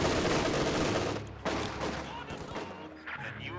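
A Maxim machine gun fires in Company of Heroes 2 during close-quarter battle, a dense rattle of bursts mixed with other battlefield gunfire, moderately distant and fading toward the end.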